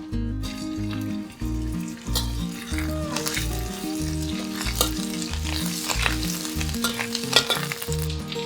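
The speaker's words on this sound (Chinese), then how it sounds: "倒入适量的麻油， 油热后放入姜泥。" Ginger paste sizzling and frying in hot sesame oil while being stirred, a steady close crackle and hiss with occasional utensil scrapes over a background of music.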